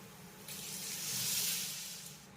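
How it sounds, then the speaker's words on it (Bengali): Water poured into a pot of biryani masala, a soft continuous splashing rush that swells and fades over a couple of seconds, close and fairly quiet, no talking. "আর ঠিক এই পর্যায়ে আমি এর ভিতরে অ্যাড করব জল"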